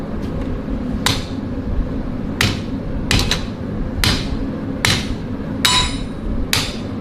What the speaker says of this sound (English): Well, he's supposed to be hammering.